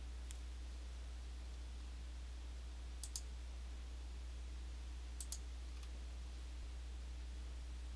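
Computer mouse clicks while working in Vertex BD architectural software: two quiet double-clicks spaced a couple of seconds apart over a low, steady electrical hum.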